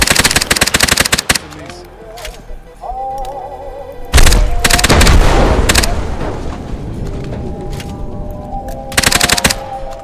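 Machine gun fire from the Dead Fury video game comes in loud rapid bursts, with heavy thuds and booms between them and a quieter stretch of game sound in the middle.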